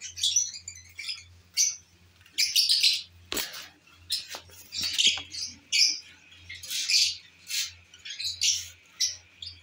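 Pet lovebirds in a home aviary, including a breeding pair sitting on eggs, giving bursts of sharp high chirps and squawky tweets in irregular clusters, close and fairly clear over a faint low hum.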